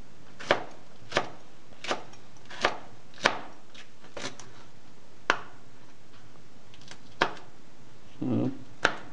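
Pointed sweet peppers being cut into bite-size pieces on a cutting board: about a dozen sharp, crisp knife chops at an uneven, unhurried pace, close and clear, with a brief rustle near the end.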